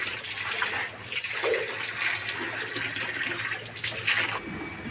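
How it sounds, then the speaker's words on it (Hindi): Water runs steadily from a tap fed by a two-hundred-year-old well in Pakistan while someone washes face and hands, a continuous splashing rush with faint irregular splatters, close by and without talk. "इधर से पानी निकलेगा, अभी मैं मुँह हाथ धोने लगा।"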